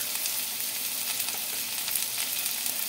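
Sliced onions and curry leaves fry in a hot pan with salt, giving a steady, dense sizzle that crackles evenly and fairly close throughout, with no voices.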